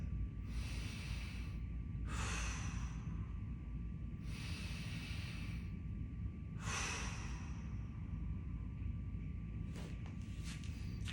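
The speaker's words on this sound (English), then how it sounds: "I wanna stay stacked here, and I wanna take my 5 breaths." Slow, deep breaths taken while holding a mobility stretch with a resistance band: four long, airy exhales come close and evenly spaced over a quiet background, followed by a brief shuffle.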